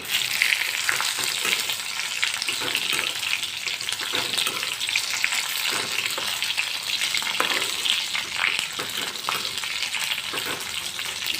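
Dried red chillies for gongura chutney fry in hot oil in a pan, giving a loud, continuous crackling sizzle with steady stirring throughout and no talk over it.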